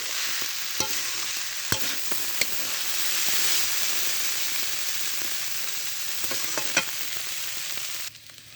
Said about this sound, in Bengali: এভাবে নেড়ে চেড়ে আমি দুই থেকে তিন মিনিট ভেজে নেব